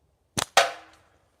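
A single sharp outdoor gunshot fired at a metal drum target on a windy day before a blizzard, a quick crack followed by a ringing clang that decays briefly.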